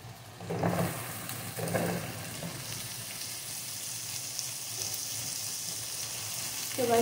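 Potatoes frying in a pan with onion and tomato for a dhaba-style mixed achari sabzi, a steady broadband sizzle running throughout with a couple of louder clatters early on as pieces drop in.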